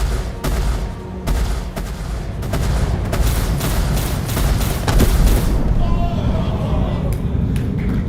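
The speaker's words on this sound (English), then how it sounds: "Some nice shooting." Ship turret fire in Star Citizen rumbles under excited voices, a loud, continuous barrage of booming shots and blasts that carries on throughout.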